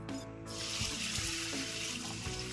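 Water is poured over flattened rice (poha) to soak it, a brief, steady splashing stream that fades quietly.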